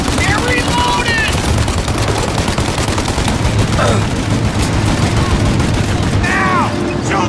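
A shootout in Mafia Definitive Edition: dense, continuous machine-gun and rifle fire rattles loudly throughout, with ricochet whines and a voice shouting over the barrage.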